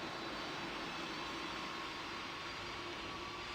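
Jet engine drone of an MD-11 airliner in a Roblox flight simulator, a steady loud broadband roar with a faint tonal whine holding through the whole stretch.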